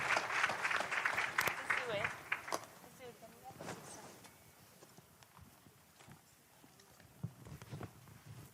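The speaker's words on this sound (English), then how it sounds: "Can we please give them a round of applause?" Audience applause for panelists at a women and girls in science and ICT commemoration event, a burst of clapping at the start that fades within a few seconds, with voices talking through and after it.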